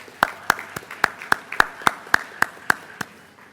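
Applause at a college graduation ceremony comes as sharp claps in an even, rhythmic beat, about a dozen in quick succession, close and distinct.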